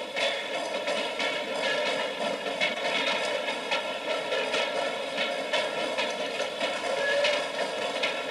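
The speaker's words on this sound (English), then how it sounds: "I'm going to go watch the freight finally leave town." A Texas & Pacific freight train rumbles past leaving town with a steady, loud clatter of cars and wheels, continuous throughout.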